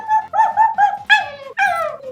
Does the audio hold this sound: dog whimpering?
yes